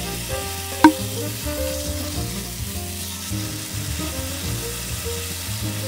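Iga wagyu beef pan-frying at an onsen ryokan dinner in Nara, a steady close sizzle and crackle of fat with faint stirring, one sharp clink early on, and no speech.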